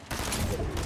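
Fortnite gunfire comes as a fast, dense burst of shots that starts abruptly and carries on loud and close for under a second, with no talking.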